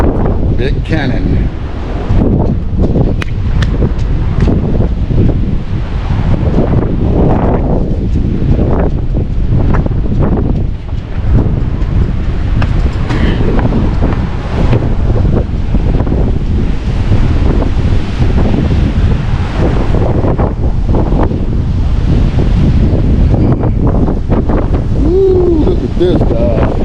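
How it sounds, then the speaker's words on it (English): Strong, steady wind buffets the microphone high on El Morro fortress by the sea, a loud continuous roar filling the whole stretch, with faint gusty rustle throughout. "it's windy up here. It's really windy."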